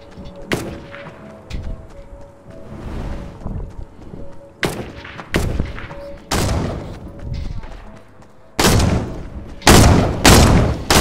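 Pump shotguns firing in Fortnite, a series of loud sharp blasts spaced irregularly and coming closer together toward the end, with rumbling game noise between shots.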